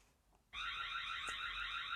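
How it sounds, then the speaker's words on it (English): A Tapo ColorPro security camera siren cuts in abruptly and holds a loud, steady, shrill electronic alarm tone, with no voices. "it turned the spotlights on and it sounds a siren"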